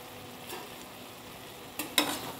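Paneer frying in a pan, a soft low sizzle with a few brief scraping stirs of a spatula near the end, close and otherwise quiet.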